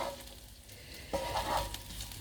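Food frying and sizzling in a pan while being stirred and moved around, a steady soft crackle with a brief scraping stir, close and fairly quiet, no one speaking.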